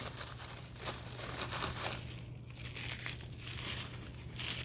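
A damp paper towel being handled and rubbed over wet paint on a mask, giving a steady soft crinkling and scrubbing close by, faint and without speech.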